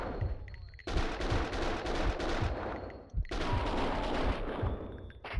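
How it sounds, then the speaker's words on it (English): Dense, sustained gunfire in the video game Max Payne 2: rapid automatic bursts and heavy shots crackle loudly almost nonstop, with a brief lull near the middle before the barrage resumes. "Someone must have heard the gunfire."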